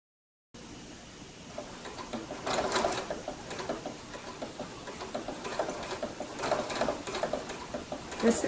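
A sewing machine runs a blanket stitch along a quilt binding, its needle chattering in steady mechanical bursts with brief pauses and speed changes, close and moderately quiet.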